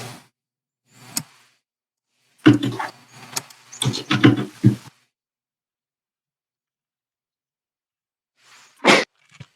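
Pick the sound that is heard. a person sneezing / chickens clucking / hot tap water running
a person sneezing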